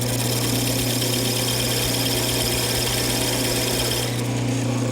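Wood lathe spinning a wooden piece while a tool makes very shallow cuts, a loud, steady motor hum with a continuous whirring drone and a slight change in tone near the end.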